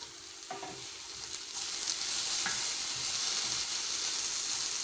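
Onions caramelize slowly in a non-stick pan over low heat, giving a soft continuous sizzle with a few stirring scrapes. The sizzle builds a little halfway through, and no one speaks.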